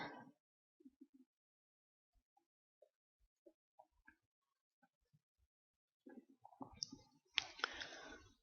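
Soft computer mouse clicks, some in quick pairs and others spaced out, picking lines during node editing in a graphics program, quiet and close, ending in louder rustling handling noise.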